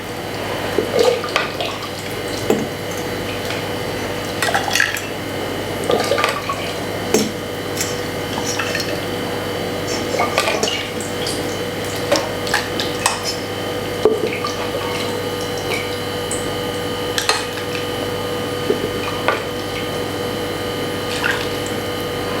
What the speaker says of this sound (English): So you ladle this one also up into a smaller pot.